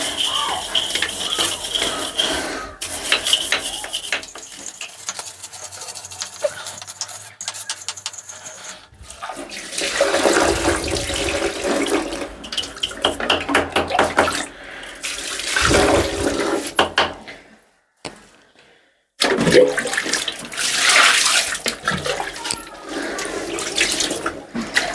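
Water running hard while a toilet is scrubbed in a village home bathroom, with a toilet flush among loud, continuous gushing broken by short pauses and a silent gap. A voice is faintly heard.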